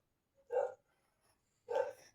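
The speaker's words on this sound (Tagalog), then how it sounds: "nakikiramdam lang sila sa tumatahol sa labas" A dog barks outside at night, two separate muffled barks about a second apart, faint and distant in an otherwise quiet room.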